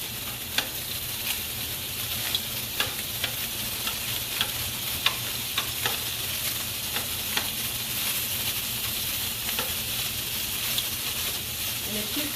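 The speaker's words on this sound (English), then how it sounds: "So I'm going to brown the sausage on both sides." Sausage browning in a frying pan gives off a continuous close sizzle and hiss, with small pops and light clicks scattered throughout, no voices.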